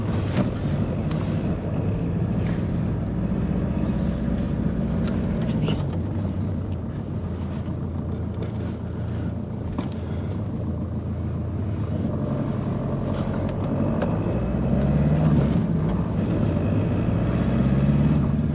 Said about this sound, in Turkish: Daha çok biraz motorun sesini dinleyin sürüşüm görün.